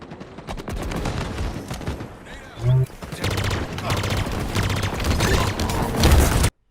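Banshee aircraft weapon fire mixed with rapid gunfire and explosions in the video game Halo Infinite, a dense, loud barrage of overlapping shots with a deep thump midway and a heavy blast near the end.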